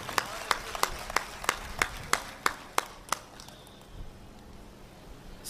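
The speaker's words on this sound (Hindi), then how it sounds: "बार तालियां बजाइए योगेंद्र जी।" Scattered applause from a poetry recital audience, a series of about ten sharp, evenly spaced claps rising in strength and then breaking off, followed by quiet room murmur.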